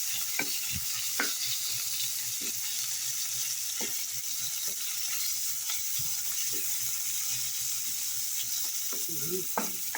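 Onion hitting a hot pan with browned garlic for a Filipino pork ginisa, giving a steady close sizzle broken by intermittent spatula scrapes and stirs, with no talking.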